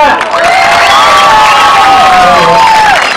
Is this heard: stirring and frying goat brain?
no